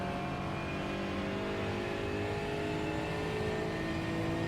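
An Aston Martin Vantage GT4 in iRacing at Suzuka's Grand Prix circuit accelerates with a steady, loud engine drone from the cockpit, rising smoothly without pauses and with no talking over it.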